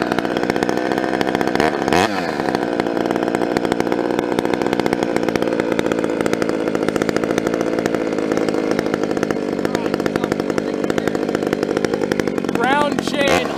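A ported Husqvarna 394 or 3120 chainsaw screams at full throttle cutting through big wood with a full-house ground chain, loud and continuous, its pitch dipping near the start and at the end as people talk over it.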